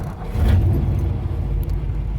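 A 1955 Ford, recently fixed after a misfire, cranks and catches, its engine settling into a deep, close, steady low rumble with no voices.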